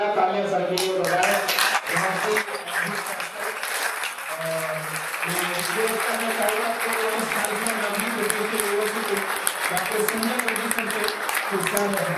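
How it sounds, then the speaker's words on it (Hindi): A standing ovation at a university spirituality talk at LPU: a large audience claps loudly and continuously for about twelve seconds, a thick wash of hand claps with voices murmuring and calling out underneath. "मैं चाहूंगा सारे लोग एक बार खड़े होकर जोरदार तालियां सर के लिए बजाएं।"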